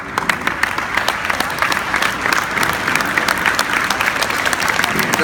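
Students and parents at a school gathering give the teachers a loud, dense round of applause, steady and unbroken for several seconds.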